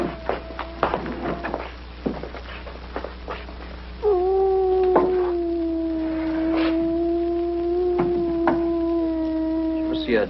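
A dog howls at night outdoors, first in scattered short cries and then in one long, loud, sustained wavering howl that carries on to the end amid some faint background noise.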